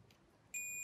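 A multimeter continuity beep switches on halfway through while testing a grill's auger motor, a steady high-pitched electronic tone held until the end over faint background hiss.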